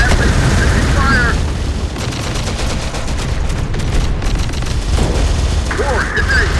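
Sustained gunfire and booming blasts from a battle in the Terminator: Dark Fate - Defiance video game, loud and continuous, with game radio voices calling out over the shooting.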